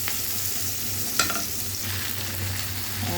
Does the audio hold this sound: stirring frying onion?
yes